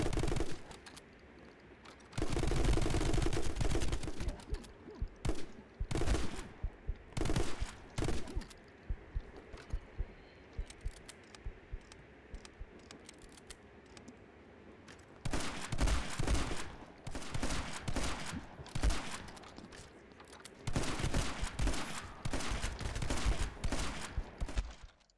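Heavy gunfire from the My Friend Pedro video game, shotgun blasts mixed with rapid automatic bursts, loud and dense, coming in repeated volleys with brief gaps over the whole stretch and no talking.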